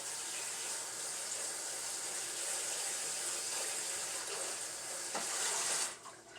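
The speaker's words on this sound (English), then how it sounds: "I need to rinse my sponge off." Water from a kitchen sink tap runs steadily and close while a sponge is rinsed under it, then cuts off abruptly near the end.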